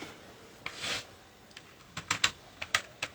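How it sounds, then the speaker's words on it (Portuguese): Someone types a password on a computer keyboard: a brief rustle, then a short run of quiet, crisp key clicks in an irregular rhythm, close by with no talking. "digitar a senha"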